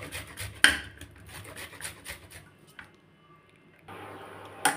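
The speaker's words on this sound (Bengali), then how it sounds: "এরকম বড় সাইজের পেঁয়াজকে আমি ঘষে নেব" Two large onions are rubbed against a hand grater, producing a steady close rasping scrape that runs on for several seconds with a few sharper knocks.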